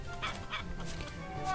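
Backyard chickens cluck in short bursts at close range, a few brief calls over steady low background noise from the coop.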